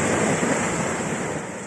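Ocean surf churns on a beach on La Gomera as a dinghy comes ashore, a steady loud wash of waves mixed with wind noise on the microphone, no voices.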